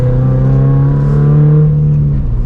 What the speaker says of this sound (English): What I love about this car is that the exhaust, especially that I did, really opened up the drama that you get from this car.